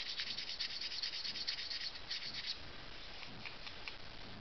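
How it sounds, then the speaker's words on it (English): Sanding the copper-toned finish off a plastic Toys R Us Green Lantern ring produces a steady, close scratchy rubbing that runs the whole time, slightly lighter toward the end, with no talking. "Sand that copper tone off."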